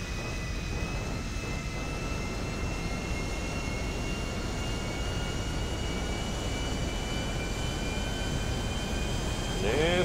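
A fixed-wing airliner accelerates down the main runway for takeoff in the GTA V video game, its jet engines producing a steady, loud roar with a high whine held throughout, swelling slightly near the end.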